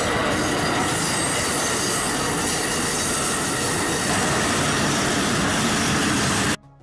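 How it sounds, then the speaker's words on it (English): A double-decker train rushes past nearby, loud broadband rumble and rattle of wheels on rails holding steady for several seconds before cutting off abruptly. "the fact that that's a double-decker train"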